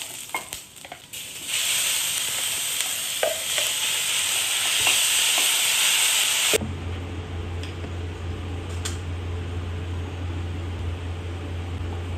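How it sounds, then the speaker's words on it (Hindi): Tomato and onion cook with basic spices in a pan, giving a steady, close sizzle and frying hiss with faint stirring ticks, broad and loud for the first six seconds, then softer under a low hum. "तो बेसिक मसाले डाल के मैंने इसमें टमाटर प्याज को अच्छे से पकाया"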